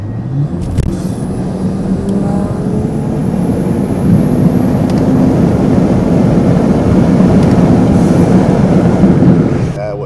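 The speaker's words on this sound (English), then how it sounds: "you guys want to see a pull of this car real quick? Let's hear that intake, huh?" A BMW X5 SUV accelerates hard from inside the cabin, its intake drawing a loud, steady roar and rumble that builds through the pull, with road and wind noise underneath and a brief human voice near the start.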